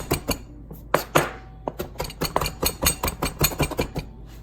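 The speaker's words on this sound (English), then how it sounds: "Chiffonade it, and then chop it into smaller pieces." A knife chops rolled chiffonade herbs for herb butter on a cutting board, with a quick run of crisp, close, irregular taps and thuds, no talk.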